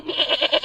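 A goat bleats at a goat yoga class. It is a single short, wavering, nasal bleat, close and clear, with no talking over it.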